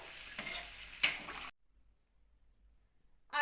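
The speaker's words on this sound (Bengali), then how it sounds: "সয়াবিন এবং আলুকে মশলার সঙ্গে আমি জাস্ট মিনিট দুয়েক কষিয়ে নিয়েছি গ্যাসের ফ্লেমটাকে ফুল করে দিলাম" Soybean chunks and potato frying with spices in a pan over a gas flame turned to full, a loud, close hiss and crackle lasting about a second and a half before cutting to silence, then briefly returning at the end.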